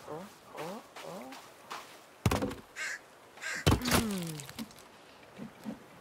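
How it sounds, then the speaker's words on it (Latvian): Crows caw repeatedly in the video game The Forest, harsh calls scattered among a couple of sharp thumps, with background sounds between the calls. "Putni."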